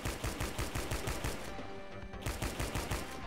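A rifle firing pins and buttons in the video game Fashion Police Squad: a steady run of rapid, evenly spaced loud shots, a brief pause near the middle, then the rapid volley resumes.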